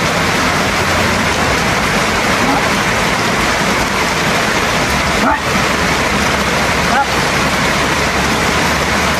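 Heavy rain pours steadily during a flood, a dense continuous wash of drops drumming on surfaces, loud and unbroken, with a couple of brief dips midway.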